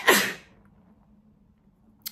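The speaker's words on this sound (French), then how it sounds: "Désolée, je vais éternuer." A single sharp sneeze right at the start, close and loud, followed by near silence and a faint click at the end.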